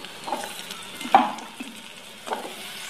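Eggplant goes into a pan of frying potatoes and onions for aloo baingan, giving a soft sizzle broken by a few clinks and scrapes of stirring, with no one talking.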